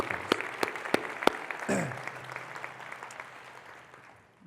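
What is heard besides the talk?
conference audience applause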